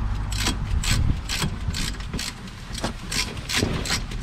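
Ratchet tightening 10mm brake caliper bolts on a 2013 Vauxhall Astra J, a rapid series of close, sharp clicks repeating in quick bursts.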